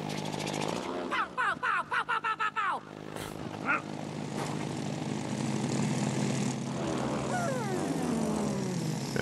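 A propeller airplane's engine in the video game It Takes Two drones steadily with a loud, close buzzing hum, briefly pulsing early on, while players talk over it.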